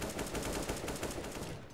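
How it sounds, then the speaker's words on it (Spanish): Automatic gunfire in the video game CS:GO, a dense, continuous stream of rapid shots that merge into a steady, somewhat distant rattling roar, with no one talking over it. "Están disparando, están metiendo tiros al azar."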